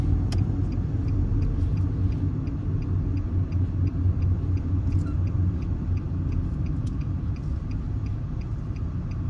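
A vehicle driven by Dex pulls in to a bus stop, giving off a steady engine rumble with faint regular ticking, likely an indicator, over the whole stretch.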